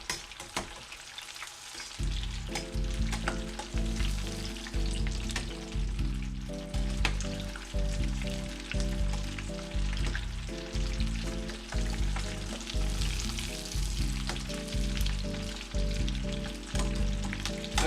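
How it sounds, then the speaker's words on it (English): Butterflied shrimp deep frying in about four inches of oil in a 3-quart pot, a dense continuous sizzle and bubbling that swells in after a quiet start and stays loud and close, overlaid by a rhythmic repeating tonal pattern, with no speech. "I've got about 4 inches of oil in here, in this regular 3-quart pot."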